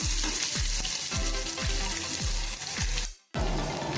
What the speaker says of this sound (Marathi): एक मध्यम असा कांदा चिरून घेतलेला आहे तो थोडासा परतून घेऊया